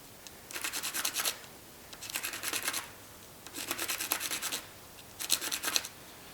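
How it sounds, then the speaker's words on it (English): A brass pen tube is scuffed against 80 grit sandpaper while spinning on a wood lathe, four distinct bursts of gritty, rasping abrasion, each about a second long, separated by short quiet gaps. "We'll just run the tube across the sandpaper while we're turning it, and we'll actually rough it up a little bit."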